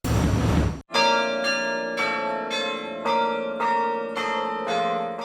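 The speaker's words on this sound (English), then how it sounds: "if you're on campus, you'll hear the bells ringing" Carillon bells ringing out on the University of Montana campus, a series of loud, resonant struck tones roughly every half second to second with long overlapping ringing decay, after a brief burst of broadband noise at the start.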